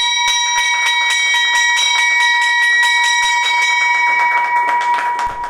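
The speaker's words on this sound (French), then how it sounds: "La cloche de la Bourse régionale des valeurs mobilières BRVM a résonné ce mardi 14 février" A loud, rapidly pulsing electric bell, the opening bell of the BRVM regional stock exchange, rings continuously for several seconds, then cuts off.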